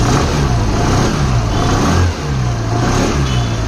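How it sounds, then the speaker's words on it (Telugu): A Suzuki Avenis 125 scooter, a 2023 BS-7 E20 model, runs its engine near the microphone with a steady, loud exhaust drone that dips briefly midway and then holds. No one speaks. "ఈ బండి యొక్క ఎగ్జాస్ట్ నోట్ అయితే ఒకసారి విందాం అండి."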